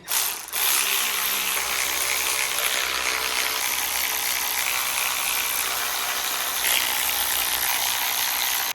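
A ratchet wrench cinching engine girdle bolts on a boosted Honda Civic LSVTEC engine, with rapid continuous clicking that carries on at close range for several seconds.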